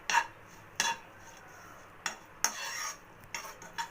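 A spoon stirs oats filling for patishapta in a pan, striking and scraping the metal in sharp, separate clinks at an uneven pace, close and clear with no talking.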